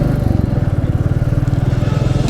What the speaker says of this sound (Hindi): अब मैं यहाँ से अंदर लेता हूँ अपनी बाइक को।